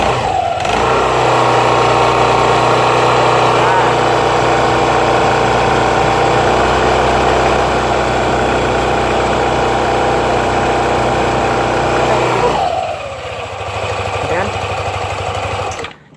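A Yamaha NMAX or Aerox 155 scooter engine runs close by at a high, steady rev with a buzzy drone, panel vibrating, then drops back to a lower idle near the end.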